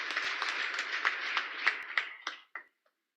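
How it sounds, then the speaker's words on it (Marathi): Scattered hand clapping from a crowd at a political campaign rally in Kudal-Malvan, Maharashtra, dense at first and thinning out into a few final claps before stopping. "एकदा जोरदार टाळ्या त्यांच्यासाठी एकदा होऊन जाऊ द्या"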